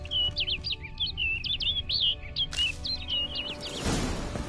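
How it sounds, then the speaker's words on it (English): Bird chirping in a video game: a run of quick, high, bright tweets and trills close by, repeated in a lively sequence over soft ambient background, with a brief noisy burst near the end. "Looks like the bird's leading me somewhere."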